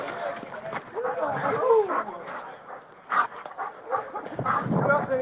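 A police dog barks, yips and whimpers in short, excited bursts at close range, mixed with voices and commotion outside an apartment during a police operation.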